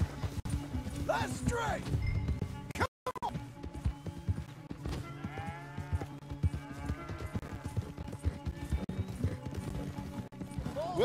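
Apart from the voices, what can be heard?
horses galloping while riding, from the video game Red Dead Redemption 2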